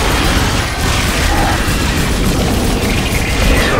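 Elevator descending in the video game Dead Space 2: a loud, dense mechanical rumble with grinding, clanking machinery running continuously and steadily throughout.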